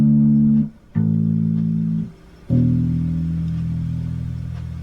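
Fingerstyle electric bass plays three sustained low notes with a soft, round tone, each ringing about a second with short gaps between, alone and close.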